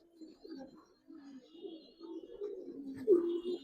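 Giribaz pigeons at a farm coo in a low, steady run of soft calls close by, rising to a louder, clearer coo near the end, with faint higher chirps above.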